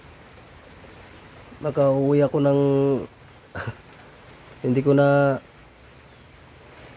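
Steady rain falls outdoors as an even, hissing wash that runs throughout, while someone talks briefly over it in Filipino.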